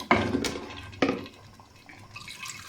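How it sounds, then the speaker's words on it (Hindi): Water splashes into a pot of turnip and meat curry in two quick pours, close and fairly faint, followed by soft trickling and a quiet kitchen. "अब हम इसमें पानी शामिल करेंगे"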